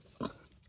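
A single short grunt from a white pig on a farm, close and fairly loud against a quiet outdoor background.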